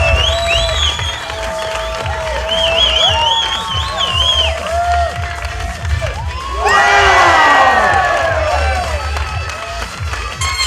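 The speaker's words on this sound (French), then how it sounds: "I need some cheers." Crowd at a St-Jean-Baptiste festival cheers and whoops, with children shouting high over the noise; a steady roar swells into a loud burst of cheering partway through, with voices chattering throughout.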